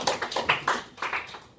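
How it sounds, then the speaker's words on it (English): Short round of applause from boys and girls in a classroom, a handful of distinct claps in loose rhythm, close and fairly light, with no one speaking over them. "Give yourself a round of applause."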